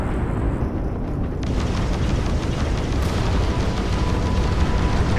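An enemy ship fires at the player in the space game Starfield, giving a dense, loud roar of explosions and booming weapon fire that carries on steadily without any voice.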